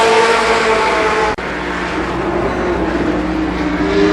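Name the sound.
race cars finishing heat race at Columbus Motor Speedway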